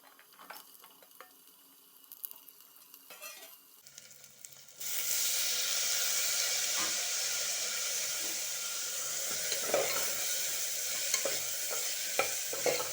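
Beans, green peas and green chillies dropped into hot oil for vegetable pulao burst into a loud, steady sizzle after a few quiet clatters, with occasional stirring scrapes over the continuous frying hiss.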